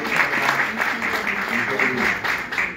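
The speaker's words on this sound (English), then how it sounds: "Once again, a round of applause for Mr. Roger Gore and his son." Steady applause from an audience at an award ceremony, a dense continuous patter of many hands clapping at moderate loudness for the whole stretch, with no pauses.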